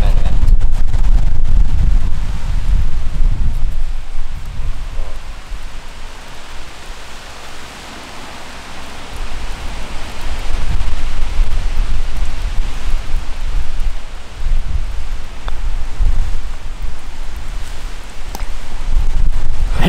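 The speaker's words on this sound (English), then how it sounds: "now it is really pouring rain" Steady, dense rain pours down on a golf course with a constant broadband roar that swells and eases slightly, with gusty low rumbling throughout.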